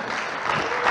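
A church congregation applauds and cheers, a dense, steady wash of clapping from many hands that swells slightly toward the end.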